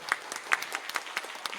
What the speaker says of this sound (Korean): 그 유나 선생님한테 우리 큰 박수 한번 보내주시면 좋겠어요